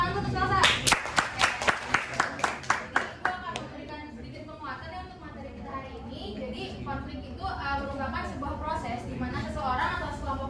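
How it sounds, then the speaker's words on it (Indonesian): Classroom students clap in a quick run of about nine or ten sharp claps that fade out. Children's voices and chatter follow and carry on afterward. "Boleh tepuk tangan"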